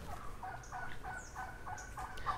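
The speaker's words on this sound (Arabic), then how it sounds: "شفت هنا عصافير وبطة، بطة أيضا ودجاج" Fowl calling at a lakeside water resort with chickens and ducks about, a series of short gobbling clucks repeated several times in quick succession, moderately close against quiet outdoor background, no talking.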